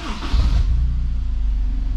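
A Honda S2000 sports car engine cranks and catches on a cold start, then settles into a steady, throaty idle rumble, close by with no voices.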